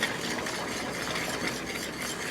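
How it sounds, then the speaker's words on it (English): Ingredients for a loaded bacon cheeseburger potato casserole being stirred together in a pot, a steady dense scraping and mixing with faint clinks of a utensil, close and continuous without pause. "I'm gonna combine everything together"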